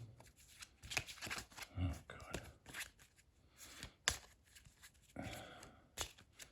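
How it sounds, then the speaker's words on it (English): Playing cards for the Global War 1914 board game are shuffled by hand in quick riffling bursts and soft slaps, close and fairly loud, with a person speaking briefly in between. "Pretty rubbish at shuffling."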